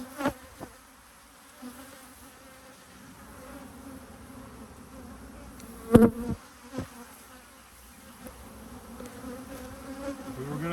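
Honey bees buzzing around an open hive, a soft steady hum close by, with a few clicks and knocks of frames being handled.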